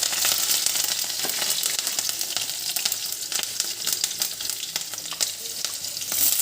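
Green chilies sizzling in hot oil tempered with nigella seeds for a water lily (shapla) bhaji, a dense steady frying hiss with crackles and spatters throughout, close and fairly loud, no talking.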